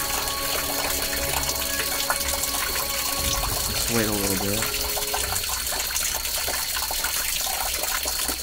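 Fresh water runs steadily at a Japanese shrine fountain, a constant close trickling and gushing that fills the whole clip while people talk quietly over it.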